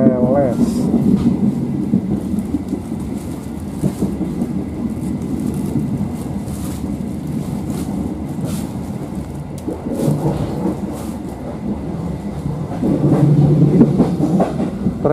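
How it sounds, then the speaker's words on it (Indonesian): Inside a local Cibatu–Bandung commuter train, a steady low rumble of running wheels and carriage fills the whole stretch, swelling slightly near the end as the train approaches a station. "kita berada di dalam kereta lokal Cibatu menuju ke Bandung. Saat lagi kereta persiapan masuk ke stasiun"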